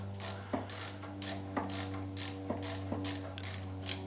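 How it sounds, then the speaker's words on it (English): Ratchet on a long extension with an 8mm socket loosening a bolt on a Subaru Legacy twin turbo intercooler, a steady series of close, crisp clicking strokes in an even rhythm over a low engine-bay hum. "if we head straight down in here with our long extension and 8mm, you can access it from above like so. All you need to do is loosen it off"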